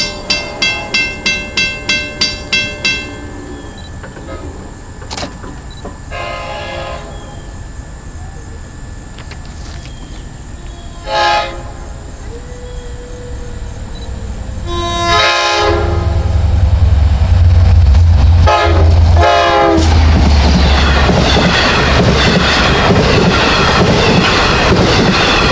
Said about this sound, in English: And here comes train 16.